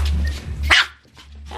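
A puppy indoors gives a couple of short, close barks with a brief yip, then a quieter pause.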